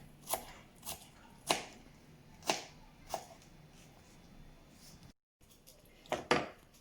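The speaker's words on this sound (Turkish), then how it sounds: "Şimdi domateslerimi doğruyorum." Knife chopping tomatoes on a cutting board, a series of sharp, separate thwacks at an uneven pace, fairly close, with a brief pause near the end.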